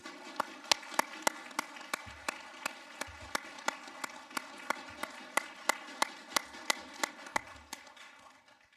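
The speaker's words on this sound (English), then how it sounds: "Let's give a round of applause." Sparse applause at a student government association debate as a speaker is welcomed to the podium, scattered individual claps spaced irregularly over a low room hiss, fairly quiet and distant.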